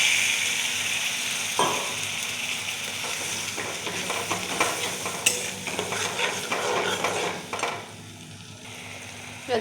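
Chili, turmeric and cumin powders with a splash of water sizzle steadily in a hot pan while a utensil stirs and scrapes through the spice mix, with a few sharper clinks near the end.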